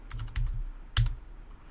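Keystrokes on a computer keyboard while a command is entered on a RHEL server: a quick run of close, crisp clicks, a short pause, then one sharper key press, likely Enter, with no talking.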